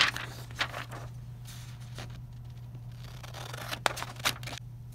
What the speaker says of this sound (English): we're going to cut out that cat's head and put it over Santa's head.